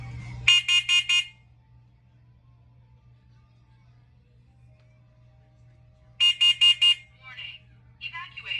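A household smoke alarm under test sounds two loud groups of four rapid, piercing beeps separated by a long quiet gap, followed by a short electronic voice announcement over a faint steady hum.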